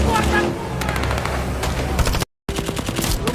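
A captain and his crew fire a hail of bullets in a zombie film: rapid, loud bursts of automatic gunfire that are dense at first, then broken by a brief drop to silence before the shooting resumes.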